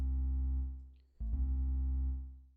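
A dry synth bass note made from a pitched-down key ignition sample, with no effects, sustains, fades, then sounds again as a second plain, steady low tone with a clear start.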